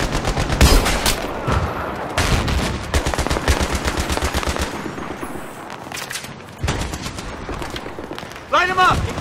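Battlefield 3 combat: rapid bursts of gunfire and machine-gun fire crackle loudly and repeatedly, with shouted voices mixed in amid the battle noise.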